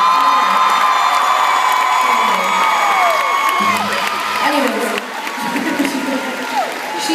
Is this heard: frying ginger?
no